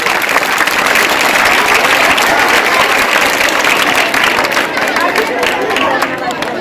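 Sustained, dense applause from an audience at a school annual function, steady and loud for several seconds with faint crowd murmur beneath.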